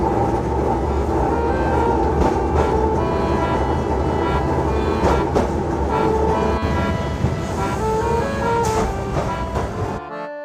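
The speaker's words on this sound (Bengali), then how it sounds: "এখন পাঁচ নম্বর ট্রাম ছুটে চলেছে হাতিবাগানের রাস্তা ধরে" Kolkata tram number five runs along the road through Hatibagan, its wheels rumbling and rattling on street rails with tonal metallic whine and clatter, loud and close, continuous until it cuts off abruptly at the end.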